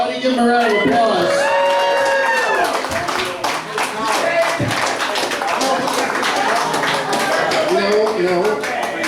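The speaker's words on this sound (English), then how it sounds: "Give him a round of applause." Crowd at a July 4th variety show claps, cheers and whoops for the performer Palmer, lively mixed clapping with shouting voices and chatter loud and near throughout.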